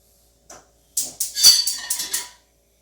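A metal frying pan is set down on a kitchen stove with a series of clanks and scrapes: one small knock, then a cluster of sharp metallic rattles over about a second and a half, close and clear.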